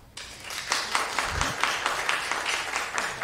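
A church congregation breaks into applause for a holy baptism during a service, the clapping starting abruptly and continuing as a moderately loud, fairly rhythmic patter from a modest group.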